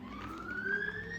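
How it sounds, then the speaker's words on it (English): An ambulance siren wails outside, a rising tone sweeping upward over about a second, fairly loud and steady with faint background hum and no one talking. "Those are the weirdest sounding ambulances."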